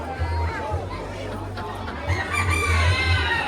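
A rooster crows loudly among caged poultry at a farm show in Auckland, New Zealand, its harsh drawn-out calls rising over steady crowd chatter and other clucking birds.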